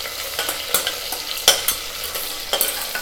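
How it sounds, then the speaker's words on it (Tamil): Garlic and curry leaves frying in oil in a pan, a dense close sizzle broken by quick scraping strokes of a spoon at an irregular pace, with no voices. "பூண்டோட ஸ்மெல் போகிற வரைக்கும் இந்த ஆயிலில் சும்மா ஜஸ்ட் ஃப்ரை பண்ணிக்கிட்டிங்கன்னா போதும்"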